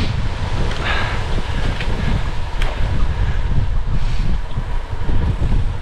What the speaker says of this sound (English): I've come back into the wind suddenly.